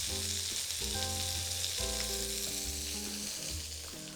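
Salisbury steak patties fry in a pan with a steady, close sizzle that holds loud and unbroken throughout, with low tonal hum beneath and no talking.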